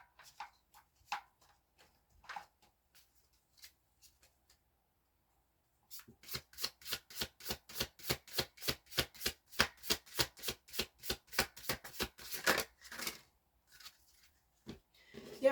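Tarot cards being shuffled, first as a few scattered soft taps, then as a long even run of quick riffling pulses that lasts about seven seconds, close and fairly quiet.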